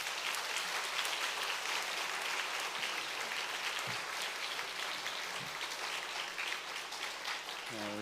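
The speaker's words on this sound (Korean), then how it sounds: "환영합니다, 축복합니다 하는 뜻으로 박수로 한번 모시겠습니다" A church congregation applauds to welcome Pastor Kim Ki-bong at a Korean fall revival service, a steady wash of many hands clapping throughout, fairly distant and even, with a brief voice near the end.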